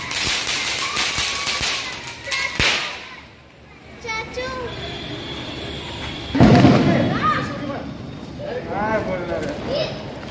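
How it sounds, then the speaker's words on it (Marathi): Diwali firecrackers burst at a home celebration in Dombivli, with a couple of loud sharp bangs and scattered crackling set against steady chatter from adults and children talking nearby. "आदू काय करतोय? फटाके फोडतोय."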